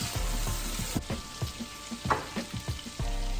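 Shrimp and garlic frying in a pan for zucchini shrimp pasta, giving a steady close sizzle broken by a series of soft stirring scrapes and taps, with no one speaking.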